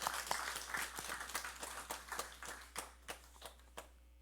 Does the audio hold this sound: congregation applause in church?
yes